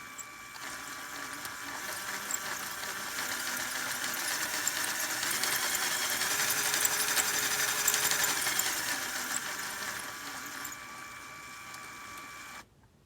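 A motorized LEGO NYO&W Ten Wheeler locomotive model runs smoothly, giving a continuous whirring motor hum with faint clicking. The sound swells gently toward the middle, then cuts off abruptly near the end, with no talking.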